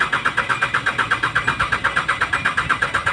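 A diesel engine in a Hyundai Starex cranks steadily on the starter during a compression test, producing a fast, even, rhythmic pulsing of roughly six beats per second, close and loud with no talking.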